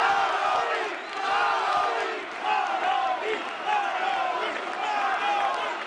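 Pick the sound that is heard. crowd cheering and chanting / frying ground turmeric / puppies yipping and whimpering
crowd cheering and chanting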